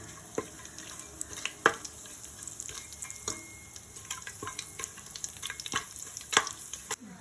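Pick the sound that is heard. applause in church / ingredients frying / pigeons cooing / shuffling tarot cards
ingredients frying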